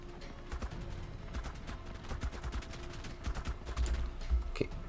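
Gunfire from shooting enemies in the video game ARK comes as rapid bursts of cracking shots, clustered in uneven volleys over a low mechanical background.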